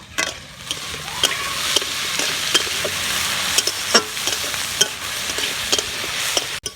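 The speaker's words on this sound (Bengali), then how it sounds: "ভালো করে ভেজে নিয়েছি সবজিগুলো নরম হয়ে গেছে" Vegetables and boiled potato fry in a hot pan for homemade chowmein, giving a steady close sizzle. Sharp scrapes and clinks of a spatula stirring at irregular intervals sound over it, with no voices.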